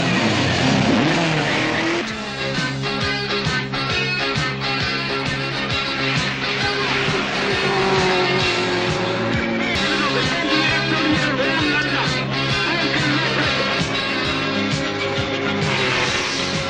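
A Triumph TR7 rally car races around the houses on a tarmac and gravel stage of the 1978 Manx Rally, its engine roaring loud and steady throughout with shifting pitch as it accelerates and brakes.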